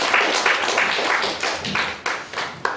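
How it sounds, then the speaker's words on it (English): Applause from the audience at a Union Budget 2022 direct taxes discussion session, a steady broadband wash of many hands clapping that carries on throughout, with a few sharper individual claps standing out near the end. "Big round of applause"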